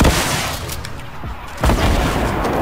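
Heavy gunfire from an online shooter game, loud overlapping bursts and booms filling the whole clip with a dip in the middle before the shots pick up again.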